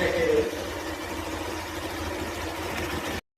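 A Hero Xtreme motorcycle engine idles steadily and close by, a continuous low mechanical drone with even vibration throughout, cutting off abruptly just before the end.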